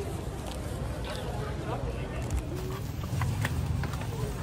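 Horse hooves clip-clop on a street in Vigan at night, a steady close patter under continuous chatter and crowd noise, with faint bird calls.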